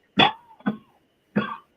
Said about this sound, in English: I might be joining you with this cough here pretty soon